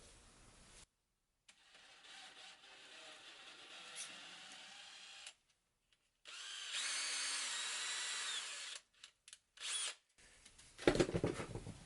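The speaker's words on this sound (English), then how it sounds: "So I'm just gonna drill through all three at once." Drill with a thin bit boring through three stacked layers of leather, heard as several separate whirring bursts that start and stop, with quiet gaps between them and louder spurts near the end.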